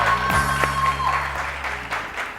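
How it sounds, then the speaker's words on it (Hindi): Studio audience applause on a Pakistani TV wedding-special show, a moderate wash of clapping steady for a couple of seconds, with a faint sustained tone and low musical hum underneath. "बहुत सारी तालियां"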